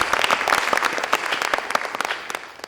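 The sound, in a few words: applause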